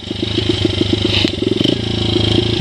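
A 2005 Honda CRF80F dirt bike engine while riding, a loud close putter with rapid rhythmic firing pulses, briefly rising in revs then settling, with some rattle and no talk.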